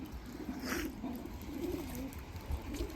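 A male Arabian crested pigeon coos in soft, low, rolling phrases, fairly faint over a light background hiss, with no voices.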